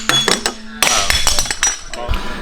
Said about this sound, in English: You're taking the hammer to it